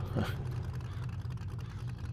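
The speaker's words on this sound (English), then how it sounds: "This is the 4x4 sound, and it's a little bit over the top" A steady, low engine drone of a 4x4 vehicle in the video game 7 Days to Die idles throughout, with a brief whooshing rev near the start and no talking.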